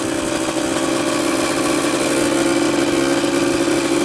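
An abandoned dirt bike's engine idles roughly and continuously, close up, with a dense buzzing rattle and no talk.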